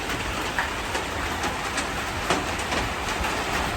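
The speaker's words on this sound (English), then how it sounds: "Just started raining now." Rain falling steadily on nearby surfaces, a loud continuous hiss with occasional sharper drips and patters standing out.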